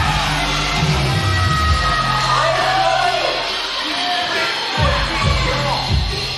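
A wrestling arena crowd yells and boos in loud, continuous disapproval, a dense wall of shouting voices that swells and dips, with a commentator speaking over it.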